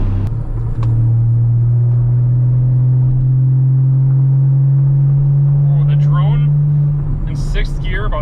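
A Porsche Cayman S 981 boxer engine drones steadily while driving, a loud, constant low hum under road rumble, with someone talking over it near the end.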